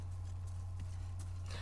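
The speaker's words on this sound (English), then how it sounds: "I love that the horse has a double jump." Horse hooves clip-clop softly in a Demon's Souls video game, a few faint, spaced hoof hits over a steady low hum.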